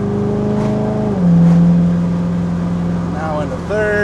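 A 1969 Chevrolet Camaro SS pulls hard in second gear, its engine note climbing steadily with a deep, loud exhaust drone, then easing back as the shift to third comes. Someone talks over it throughout.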